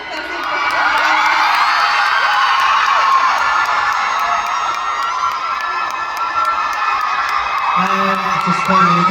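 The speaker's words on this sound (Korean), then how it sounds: "여러분 큰 박수 부탁드립니다." A large fan crowd at a K-pop fan meeting in New York cheers, whoops and screams continuously with clapping mixed in, loud and sustained throughout, with a few voices rising near the end.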